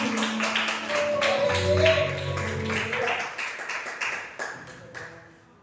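Congregation clapping in rhythm during a church worship service, steady repeated claps blended with singing or music and voices, fading toward the end.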